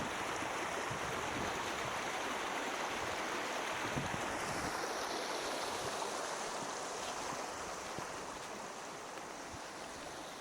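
A brook flowing through a forest in Almindingen on Bornholm, Denmark: a soft, continuous rush and trickle of water, faint and steady, with light wind.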